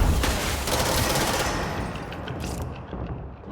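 Dense, rapid automatic gunfire in the video game Control, a loud continuous barrage of shots that thins out into scattered bursts toward the end.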